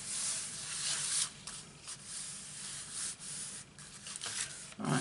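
Soft, close scratchy rubbing as paper is gently pressed down onto a stamped snowman greeting card, in short uneven strokes with brief pauses, quiet and without talk.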